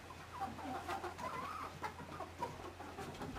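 Chickens settling on their roost, soft low clucks and murmuring coos from several birds close by, continuous and quiet over a steady low hum.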